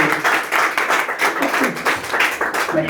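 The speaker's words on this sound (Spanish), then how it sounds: "Fuerte ofrenda de palmas a nuestro buen Dios, mis amados hermanos." A church congregation at a Spanish-language service claps hands together in a steady, rhythmic beat, loud and close, with the claps repeating evenly throughout.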